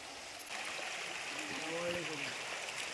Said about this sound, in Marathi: बघा ओढ्याला किती पाणी आलंय